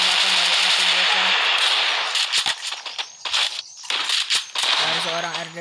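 Rapid bursts of automatic gunfire in a shooting video game, loud and close with sharp repeated cracks and brief gaps, over continuous game background noise and electronic tones.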